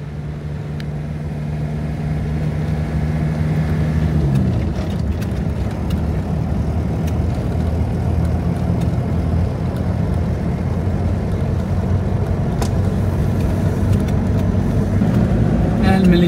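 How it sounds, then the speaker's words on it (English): A car driving in the Western Sahara desert near Dakhla, with a loud, steady engine drone and road rumble that continue throughout, a low hum settling after the first few seconds. "So I will drive down there"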